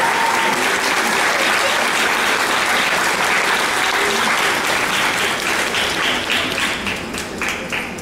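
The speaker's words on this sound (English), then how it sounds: "let's give a big round of applause to all of your parents and family that are out there." Sustained applause from a crowd at a graduation ceremony, dense and loud, running the full length and thinning slightly near the end, with no talk over it.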